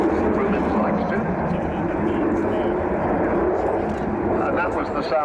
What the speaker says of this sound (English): that was the sound of 4 Rolls-Royce Bristol Olympus 202 engines